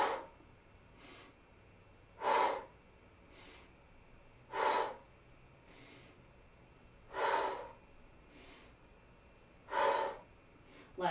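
Slow, rhythmic breathing during an inner breathing exercise, with four strong, close, audible inhale–exhale cycles spaced about two and a half seconds apart and softer breaths between them.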